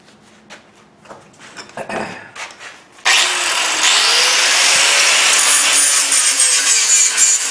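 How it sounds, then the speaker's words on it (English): A power grinder works on a welded steel Great Blue Heron sculpture, starting abruptly after a few seconds of scraping and shop handling noise, then running loud and steady, with the abrasive whine rising and falling as it bites the metal. "I'll grind it a little bit, see what it looks like, put the wire brush on it, see what it looks like"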